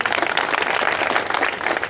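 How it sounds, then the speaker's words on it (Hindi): A crowd claps at a Congress party rally in Jalgaon, Maharashtra, producing dense, continuous applause of many hands from start to end, fairly loud with no clear voices over it. "तालियां बजाओ"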